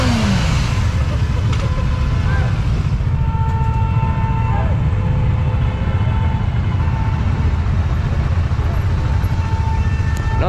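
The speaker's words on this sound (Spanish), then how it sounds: "Más de 200 motos camino a Balcarce, festejando el día de la primavera en moto." A caravan of more than 200 motorcycles leaving Mar del Plata for Balcarce to celebrate the first day of spring, a loud continuous rumble of many engines with revving passes and people talking close by.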